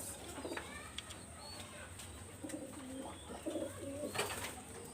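Giribaz pigeons coo softly in a loft, low rolling calls repeating under a steady background hiss, with a faint voice nearby and a few sharp clicks.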